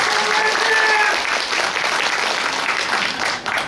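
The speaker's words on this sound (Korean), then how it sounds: "큰 박수로 격려해 주시면 대단히 고맙겠습니다" Audience at a housing association general meeting gives a burst of loud, dense applause that fills the room, then tapers off slightly toward the end.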